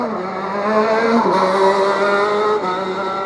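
Air-cooled 125cc classic racing karts at a retro kart championship round at Rowrah scream past in a loud, continuous two-stroke whine, with pitch shifts as the engines rev and pass close by.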